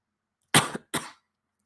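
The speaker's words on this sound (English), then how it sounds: "I'm gonna suddenly sneeze, cough, everything all at once." Two sharp coughs in quick succession, close and fairly loud, followed by silence.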